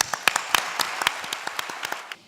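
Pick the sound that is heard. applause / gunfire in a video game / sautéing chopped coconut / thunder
applause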